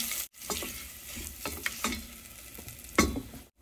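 A bottle gourd curry with grated ginger is stirred in a pan, with close scraping spoon strokes over a soft sizzle and short pauses between them.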